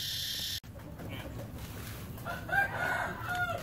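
A rooster crows on a countryside farm near Vientiane, Laos, a loud, close call rising and then holding near the end, after a brief cut and some quieter farmyard background.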